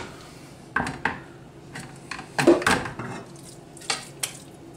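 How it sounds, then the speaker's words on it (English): Drained spinach tipped back into a metal pot in a home kitchen, a few clanks and scrapes of utensil on cookware with soft wet shuffling between them, close and moderately loud. "I'm putting it back in the pot."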